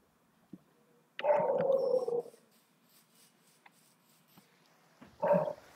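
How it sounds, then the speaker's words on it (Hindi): A dog in a zombie video game gives a sustained bark-growl, then a second shorter bark a few seconds later, moderately loud over quiet game ambience, no talk. "हमारा अभी ये कुत्ता भौंक भौंक पर हमारे कान खाएगा"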